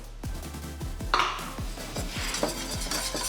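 Flour stirred into simmering liquid in a pan to form a paste, with a steady rhythm of metallic clinks and scrapes of the utensil against the pan, repeating about every half second.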